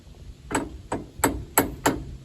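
Five sharp metallic hammer strikes on a small punch, driving it through an electric trailer brake part, spaced roughly a third of a second apart, close and clear with a quiet background.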